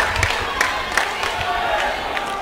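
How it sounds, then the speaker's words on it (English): A loud crowd at a varsity high school volleyball match in a gym keeps up a continuous roar of cheering and shouting, with voices mixed into the noise throughout. "They got the crowd riled up on that one."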